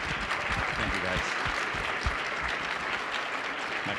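Sustained crowd applause at the SAINTCON 2025 conference, dense and steady throughout, with many hands clapping at once and a few voices faintly mixed in.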